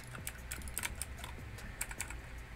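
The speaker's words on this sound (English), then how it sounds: "you could hear the clickety clackety on this microphone" Keys clack rapidly on a cheap one-handed mechanical gaming keyboard, a quick irregular patter of sharp clicks recorded close up with no voices.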